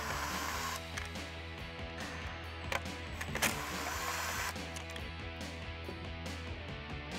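A power driver spins Torx bolts out of the rear trim around the third brake light on a Jeep Wrangler JL, giving a steady close electric whir with a couple of brief sharp clicks partway through.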